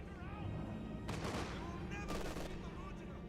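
Anti-tank guns fire during a Company of Heroes 2 battle, with two loud bursts of gunfire over constant in-game combat noise and a voice speaking at the start.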